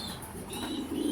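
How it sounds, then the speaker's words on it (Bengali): A female exhibition pigeon coos softly and close by, a low rolling murmur that swells toward the end, with faint higher chirps behind it. "এটা একটা মাদি কবুতর, আপনারা দেখতে পাচ্ছেন"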